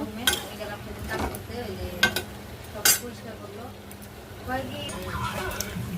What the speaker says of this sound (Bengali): ভালো করে ভাজা ভাজা করব।